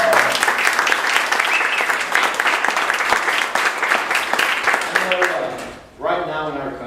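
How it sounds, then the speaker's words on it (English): A campaign-event audience applauds law enforcement officers with steady, loud clapping that carries for several seconds before tapering off, then a speaker's voice resumes. "Can we give them all a round of applause?"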